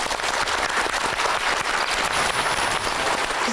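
Studio audience applause on a Korean TV talk show, a dense, steady wash of many hands clapping at close range that fills the whole stretch at even loudness, with no talk over it.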